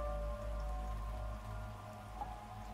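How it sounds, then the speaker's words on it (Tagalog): Heavy rain falls in a steady, even hiss of drops on surfaces, with no voices and a faint low hum underneath. "napakalakas pa rin ng ulan"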